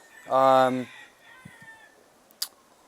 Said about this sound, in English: there's wild feral chickens over here in Hawaii